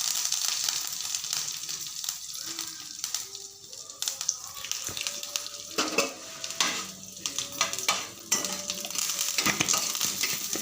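Urad dal, garlic and dried red chillies fry in hot oil in a pan as tempering for gooseberry chutney. A continuous close crackle and sizzle carries on throughout, with scattered metallic scrapes and a few clinks from stirring.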